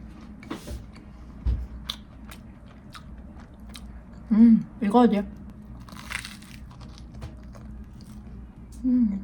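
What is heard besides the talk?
chewing and biting food eaten with strawberry jam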